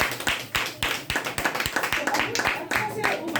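Audience clapping in a testimonial meeting, a steady round of hand claps with sharp, closely spaced individual claps, fairly close and lasting throughout.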